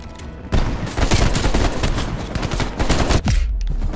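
Dense, sustained gunfire from a Call of Duty: Black Ops Cold War firefight, rapid automatic bursts and overlapping shots roaring loud and close from just after the start nearly to the end, with a brief lull near the finish.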